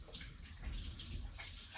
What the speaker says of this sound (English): quickly just wash your hands again